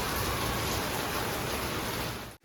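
Heavy monsoon rain pours down as a dense, even hiss at a steady loudness, then cuts off abruptly just before the end, with no speech.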